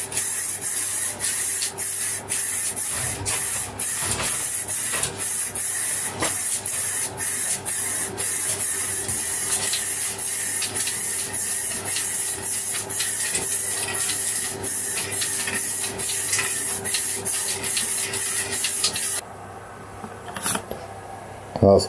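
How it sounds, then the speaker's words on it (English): A spray gun applies lacquer to homemade van sleep pods at midnight, giving out a series of short, rhythmic hissing bursts under a steady background hum, then stopping near the end, leaving quiet with faint clicks. "Yes, I am spraying at midnight, Tim."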